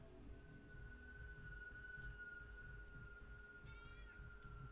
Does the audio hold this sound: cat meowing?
yes